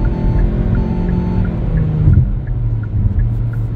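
Inside a car driving through Saint Paul, Minnesota, a steady low engine and road rumble fills the cabin, with faint, evenly spaced ticks running over it.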